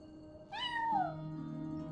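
A single cat meow in the video game Genshin Impact, a clear rising-then-falling cry close by against a quiet background, followed by a faint low tone.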